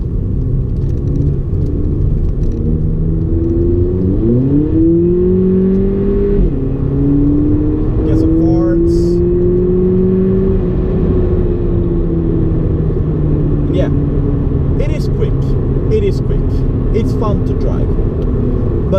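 A Volkswagen Polo GTI hot hatch with sport suspension and sport transmission, accelerating in sport mode: a steady loud engine drone rises in pitch through a gear change and keeps climbing, heard from inside the car.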